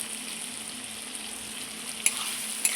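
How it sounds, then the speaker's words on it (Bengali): Mutton curry sautéing in a pan after its liquid has cooked off, a steady soft sizzle with a couple of sharp utensil taps near the end. "এখন আমি মাংসটাকে কষিয়ে নিচ্ছি খুব সুন্দর করে।"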